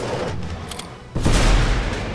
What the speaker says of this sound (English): Charge the death bombs!